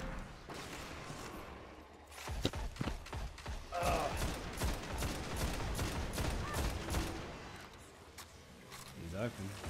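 Rapid bursts of gunfire fill a Destiny: Rise of Iron strike mission against Sepiks Perfected, loud and sustained, with weapon impacts and thuds under steady talk from players.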